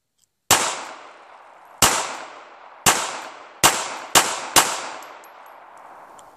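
Six sharp, loud gunshots from a Smith & Wesson Bodyguard 380 pistol, fired one at a time at an uneven pace that quickens toward the end, each followed by a short ringing decay.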